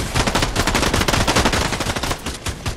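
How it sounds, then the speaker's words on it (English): Rapid, dense automatic gunfire from a Fortnite match rattles without pause, loud and close, in continuous bursts with no talking. "all of a sudden I heard them shooting at things"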